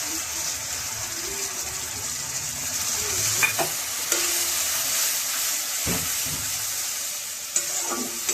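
Chili and turmeric spice paste sizzles in a pan, a moderate continuous frying hiss broken by a few sharp stirring scrapes and clinks of a utensil, with no one talking.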